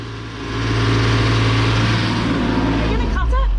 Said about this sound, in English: So we ran the engine up to full power, achieved 7 knots